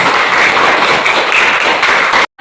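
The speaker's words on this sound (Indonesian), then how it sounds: "tepuk tangan" A school class claps hands together during a lesson, dense, even applause close by for about two seconds before it cuts off abruptly into silence.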